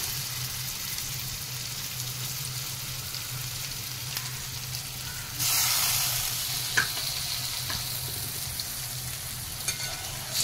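Mackerel goes into hot oil for Goan uddamethi with Malvani masala and sizzles close and steady, rising to a louder hiss partway through, with faint stirring clicks and no talk.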